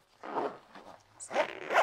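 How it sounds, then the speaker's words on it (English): A Bellroy Cooler Tote bag packed with three six-packs and an ice block is zipped shut in two or three short, close zipping strokes in a quiet room. "Zip it up"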